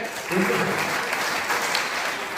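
Audience applause at a Hindi kavi sammelan poetry gathering in Sitapur, a steady wash of clapping from the crowd filling the whole stretch, moderately loud with no one speaking.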